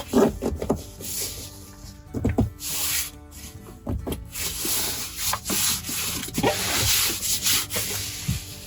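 Straps of a seat cover pushed down through a Can-Am Defender UTV seat, giving repeated close scuffing and rubbing of fabric against the seat, with brief louder pushes and no talking.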